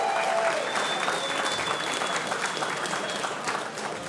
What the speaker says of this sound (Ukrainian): І оплески Ростіку.